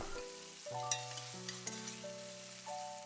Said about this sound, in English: then sear for 1 minute on one side